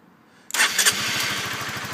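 After a brief quiet moment, an engine with a corroded electrical switch cranks and catches, then settles into a rapid, rhythmic idle putter.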